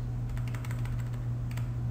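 Fingers tap a computer keyboard in quick irregular bursts of keystrokes, fairly quiet and close, over a low steady electrical hum.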